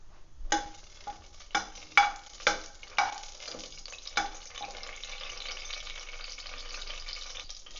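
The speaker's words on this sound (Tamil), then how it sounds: "ஒரு அன்னாச்சி பூ வச்சுருக்கோம், அதை போட்டுக்கலாம். 5 கிராம்பு போட்டுக்கலாம். நல்லா வறுப்போம்." Whole spices (cardamom, star anise, cloves) drop into hot oil for a salna gravy, a few sharp clicks and clatters in a row followed by a soft steady sizzle, close and without talk.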